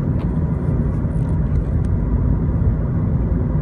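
Steady, loud interior road and engine rumble from a 2012 Mitsubishi Lancer GT-A 2.0 CVT sedan while driving, a constant low drone with faint higher hiss and no speech.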